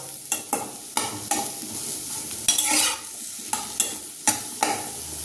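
Food frying in a little oil in a home kitchen pan, with repeated scraping stirs of a spoon over a steady sizzle, close and moderately loud, no talking.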